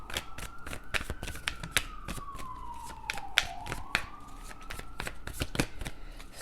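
A wailing siren sweeps slowly down and back up in pitch somewhere in the distance, heard beneath the brisk, repeated slaps and riffles of tarot cards being shuffled close by.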